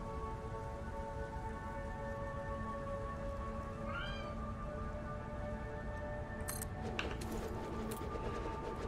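A domestic cat gives one brief meow partway through, faint over a steady hiss like rain, followed by a few sharp clicks.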